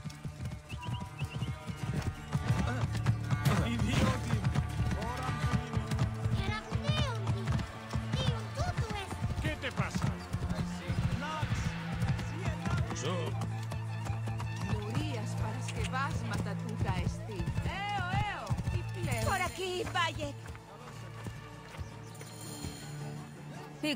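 A horse's hooves clip-clop in Assassin's Creed Origins, a steady trotting rhythm with an occasional whinny, set under game music and voices that talk throughout.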